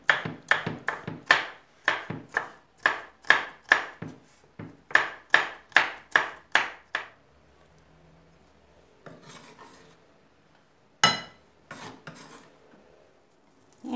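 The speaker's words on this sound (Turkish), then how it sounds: "Maydanozu ve dereotunu da yine minik minik doğrayacağım." A knife chopping fresh parsley and dill finely on a board, first a quick, even run of crisp, close taps, then a pause and a few scattered cuts.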